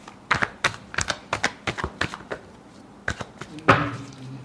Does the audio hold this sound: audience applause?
no